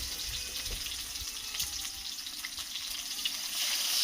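Chopped onion sizzles steadily in hot oil with black cumin seeds in a pan for a village-style Bengali fish curry, producing a continuous close hiss and crackle with no voices.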